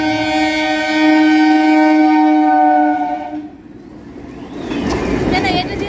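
A train sounds a long, loud, sustained horn as it approaches a level crossing near Babughat, Kolkata, then the horn cuts off and the heavy rumble of the passing train takes over, with a busy crowd nearby.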